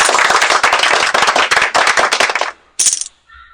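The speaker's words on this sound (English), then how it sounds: "And applause." Applause sound effect in a poker game: a dense burst of crowd clapping, loud and close, lasting about two and a half seconds before cutting off into a short bright chime and a faint electronic tone.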